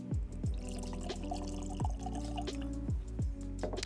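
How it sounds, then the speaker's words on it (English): Adelaide Hills Distillery 78 Degrees Australian whiskey poured into a glass, with close glugging drips and liquid splashes in an uneven rhythm, heard alone without talk. "Probably pour more than I usually do on these tastings"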